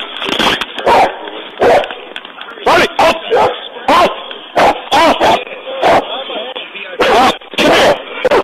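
A police dog barks loudly and repeatedly in close, rapid bursts with some yips and whimpers, while a handler shouts commands over it.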